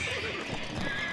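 A horse at a stable in the video game Age of Empires II (Definitive Edition) gives a short, quiet whinny over a dense, steady game background.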